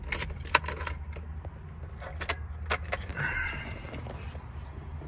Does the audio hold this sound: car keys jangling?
yes